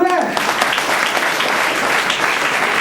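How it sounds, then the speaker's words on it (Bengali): Loud, dense applause from a crowd at a celebration gathering fills the space continuously, steady clapping after a brief tonal sound at the start. "সবাইকে আহ্বান জানাবো জোরে করে তালি জোরে"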